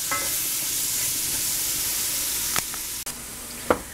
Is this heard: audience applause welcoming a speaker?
no